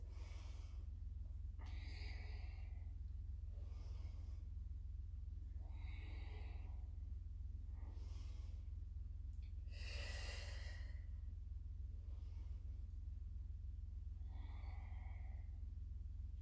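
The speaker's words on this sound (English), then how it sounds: "Big breath in to open. Exhale and close." Deep, slow breaths in and out during a pilates exercise, about eight soft airy puffs spaced every two seconds or so, faint and close over a constant low hum.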